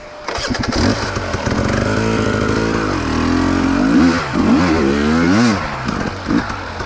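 A hard enduro dirt bike engine at close range starts up and revs repeatedly, rising and falling in pitch with loud, rough throttle blips on a trail loop.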